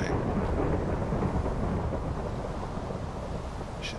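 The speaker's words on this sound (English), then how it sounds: "it's raining again." Steady rain and rumbling thunder in the video game Minecraft, a dense low roar of rainfall that stays fairly even throughout, with no talking over it.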